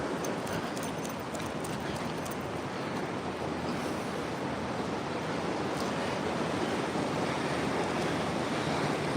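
Ocean surf rolls in at Moolack Beach on the Oregon coast, a continuous, fairly loud roar of breaking waves mixed with wind buffeting the microphone.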